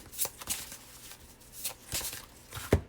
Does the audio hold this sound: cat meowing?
no